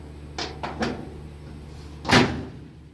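The door of a 1953 Ford F100 pickup fitted with Altman latches is worked: three quick light clicks of the latch, then a single firm thud as the door shuts close by.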